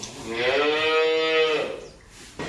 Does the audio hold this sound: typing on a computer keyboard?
no